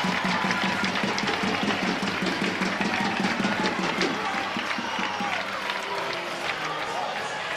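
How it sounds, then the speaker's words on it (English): Ice hockey crowd roaring steadily after a fight at a British Elite League game, a dense, loud wall of arena noise with commentators talking over it throughout. "that's certainly got the crowd energised now"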